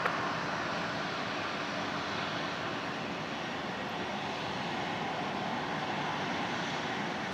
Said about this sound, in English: Texel coming in now, the Team Global Express from Sydney. The Boeing converted freighter 737-800.